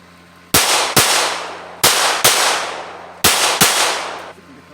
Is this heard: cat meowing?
no